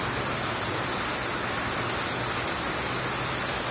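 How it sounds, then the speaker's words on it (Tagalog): Steady rain falls outdoors in a dense, even hiss that holds unchanged throughout, with no voices. "Biglaan kasi umulan, eh."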